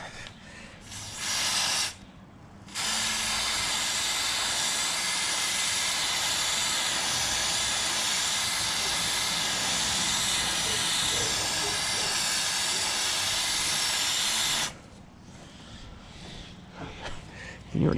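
A freshly lubricated bicycle chain spins on the bike, giving a steady, loud whirring hiss that runs for about twelve seconds before stopping, with quieter background before and after.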